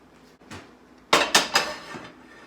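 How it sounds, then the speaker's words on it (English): A cast iron pan handled in a home kitchen, a soft knock followed by three sharp, ringing metallic clanks close by, then a faint final tap. "Get my cast iron pan."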